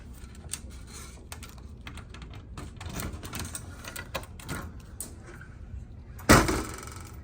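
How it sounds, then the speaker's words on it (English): Clicking from an internal ground fault in an Edwards 6500 fire alarm panel at a school, with the buzzer disconnected: a close, steady run of quick dry clicks and ticks, ending in a louder clunk near the end, with no talking. "The clicking is from the ground fault."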